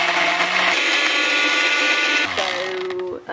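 Blender whizzing cashews with salt and lemon juice into a vegan cream, a loud high-pitched motor whir that dips and changes pitch near the end as the mix shifts.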